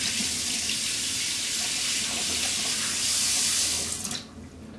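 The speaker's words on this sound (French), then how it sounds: "on rince avec de l'eau tiède." Lukewarm tap water runs into a bathroom sink while a face is rinsed during makeup removal, a steady close splashing hiss with slight surges that stops abruptly near the end, no voices.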